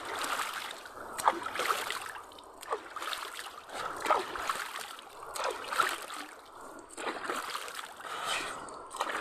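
Repeated splashing and sloshing of water as someone bathes in a cold river, the bursts coming in uneven waves across the clip, fairly close and with no talk over them.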